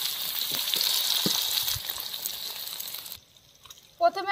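Pieces of rui fish fry in oil in a pan, a close, steady bubbling sizzle for about three seconds that then drops away to near quiet before a short voice-like sound at the end.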